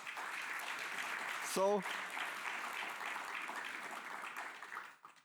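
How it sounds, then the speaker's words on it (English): Audience applause at a conference session on sustainable fuels for shipping and aviation, a steady wash of clapping from a large crowd that runs through nearly the whole clip, with a brief spoken word near the start before it fades at the end. "So please give all of them a warm applause"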